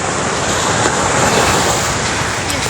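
Sea surf washing onto a shore with clear water, a loud, continuous broadband roar mixed with wind buffeting the microphone, no distinct voices.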